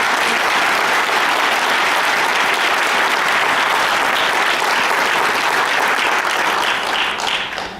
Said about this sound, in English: give them a round of applause for being nominated